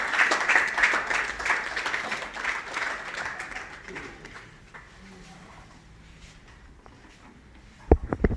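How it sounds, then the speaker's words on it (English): Audience applause at a lecture on Gambia's draft constitution, moderate clapping that fades out over several seconds, followed by a few faint sounds near the end. "Let's clap for him again"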